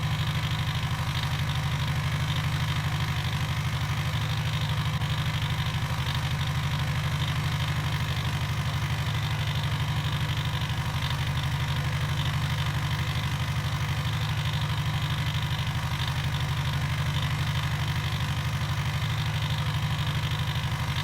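A gas engine in the building game Gearblocks, running at a steady drone with a low, even hum that holds unchanged throughout, close and continuous with no voices.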